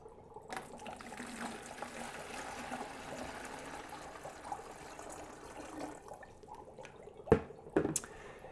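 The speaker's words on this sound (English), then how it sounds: "now that we have our warm water in here" Warm water pours into a container, a steady close trickle and splash with a couple of sharper knocks near the end, no speech over it.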